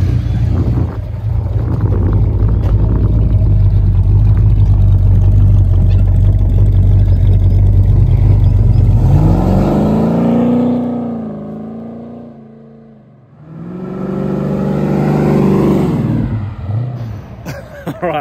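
Cammed Ford AU Fairlane 5.0 V8 with a tuned chip, idling loudly with a choppy lope before being nailed hard to take off. The revs rise in two sweeping bursts as the car pulls away and fades.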